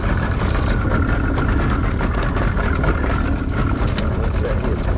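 A fishing boat's outboard motor idles steadily on a river section of a lake, a continuous rough rumble with water wash, heard close and unbroken throughout.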